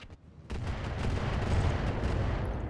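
A large mech cannon firing in the BattleTech mod RogueTech, a heavy booming blast that rolls into a sustained rumbling barrage of deep impacts, loud and without speech over it.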